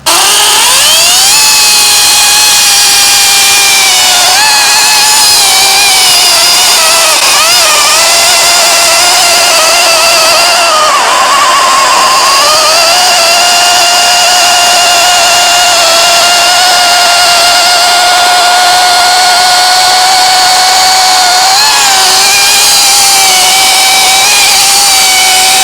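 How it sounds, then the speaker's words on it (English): A battery chainsaw with a hand-filed chain cuts firewood, a loud, continuous high-pitched whine that dips and rises as the chain bites into the wood, close and uninterrupted. "I've got the saw in my hand. I'm just going to finish cutting this stuff up."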